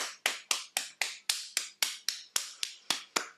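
Hands tap on the body in a slow, steady rhythm, about a dozen sharp, close, quiet slaps spaced evenly, each decaying before the next, with no talking.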